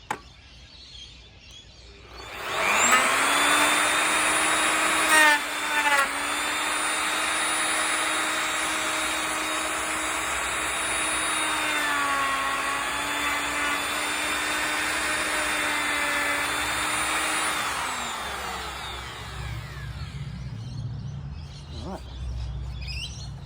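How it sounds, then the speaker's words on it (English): A plunge router cuts into a heavy 200-pound wooden fencepost, a loud, sustained high-pitched motor whine that dips slightly under load for about fifteen seconds, then spins down, with faint birdsong outdoors. "it's a plunge router, so it gets a little bit deeper every time you do it"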